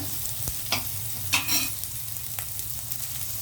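Chopped onions fry in a pan for a spinach pulao, a steady close sizzle with a few sharp spatula scrapes and clinks as they are stirred.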